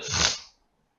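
A single short, breathy burst with a soft onset, like a sneeze or sharp exhale, close by, fading out after half a second into silence.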